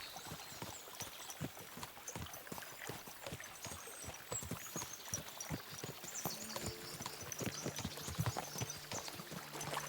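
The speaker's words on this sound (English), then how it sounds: "we'll give the horses a gallop again" Horses gallop in Kingdom Come Deliverance II, a steady clip-clop of hooves over a soft trickle of stream water, with a low musical drone rising toward the end.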